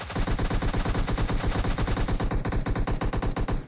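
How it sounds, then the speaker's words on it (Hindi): Rapid automatic gunfire in BGMI (PUBG Mobile), a loud unbroken burst of evenly spaced shots rattling for nearly four seconds with no voices over it. "खुद ही गोलियां चल रही है"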